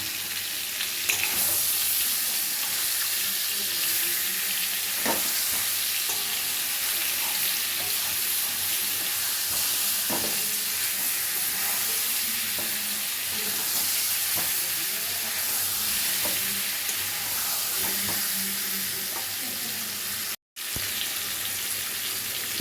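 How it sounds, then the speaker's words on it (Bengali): Sweet mango pieces fry in a pan with a loud, continuous sizzle and crackle close up, broken by a few light stirring knocks, with no voices. "আমটা ভাজছি"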